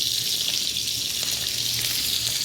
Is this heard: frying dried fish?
yes